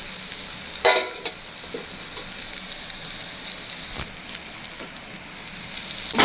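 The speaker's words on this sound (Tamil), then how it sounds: "சும்மா இதோட கலக்கிறதுக்காக கொஞ்சம் நேரம் ஃப்ரை பண்ணுவோம்" Boiled, flaked fish mixed with potatoes frying in a pan for cutlets, a constant soft sizzle with occasional louder crackles and stirring scrapes, close and alone.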